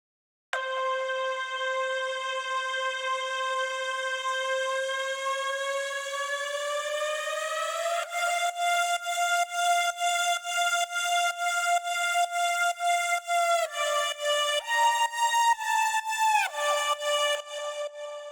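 An aggressive synth lead layered with violin plays alone: one long rising held note, then a run of fast, evenly pulsed notes that climb and shift in pitch, loud and bright throughout.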